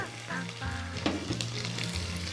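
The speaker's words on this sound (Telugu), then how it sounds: "అలాగే ఇవి కొంచెం వేగుతూ ఉంటాయి" Thinly sliced onions frying in a pan: a close, steady sizzle with some low rumbling tones and occasional brief crackles.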